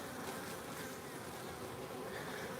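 Honeybees flying in and out of a beehive at a garden feeder setup, a constant faint broadband buzzing hum with no distinct individual passes.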